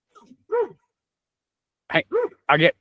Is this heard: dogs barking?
yes